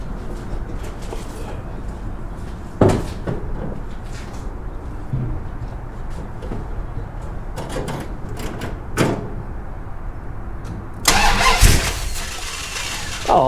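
A 1969 Dodge Coronet 500 engine cranks and catches, then runs at a steady idle with a few louder revs and clanks, birds faintly audible in the background.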